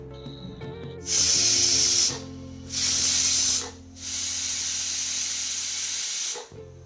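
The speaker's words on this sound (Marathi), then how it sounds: "ही झाली आपली तिसरी शिट्टी" Loud hissing whistle bursts from a pressure cooker cooking masale bhat, three steam blasts in a row, the last one long and sustained.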